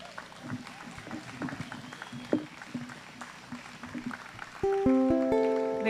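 Audience applause rustles and claps steadily at a live music event, moderately loud, before tonal plucked notes enter near the end.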